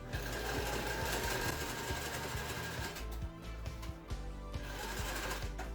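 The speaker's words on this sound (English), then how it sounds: "I need to be sure to continue all the way until I overlap on the previously sewn parts" A sewing machine stitches fabric in a fast, loud mechanical whirr with a rapid needle rhythm, pausing briefly midway before stitching resumes, with no speech.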